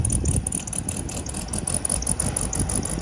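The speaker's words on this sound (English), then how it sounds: "sounds like a VW." A 1967 Volkswagen engine runs steadily nearby, a loud, continuous air-cooled chug with a rattling, pulsing rhythm and no talk over it.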